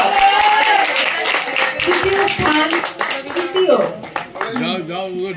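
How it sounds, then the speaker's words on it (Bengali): An audience at a youth conference claps for a prize winner being announced, a patter of hand claps running under someone speaking over a microphone. "হাততালি একটু জোরে আপনারা।"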